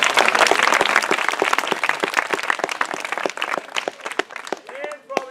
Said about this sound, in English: let's give a round of applause for all of